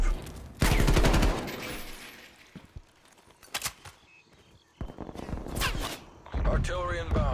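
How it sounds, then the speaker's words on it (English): Artillery strike in Call of Duty: Black Ops Cold War during a Hardpoint match: loud bursts of gunfire and explosions open the clip, followed by scattered shots and blasts, with a radio voice heard between them. "Artillery inbound."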